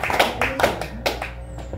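Congregation clapping hands in praise at a Sunday church service, a handful of loud, spaced claps over about two seconds with background murmur, close and reverberant.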